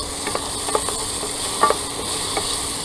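Mushrooms frying in a pan in an RV kitchen, with a steady close sizzle under a few soft stirring scrapes and clicks, no talk.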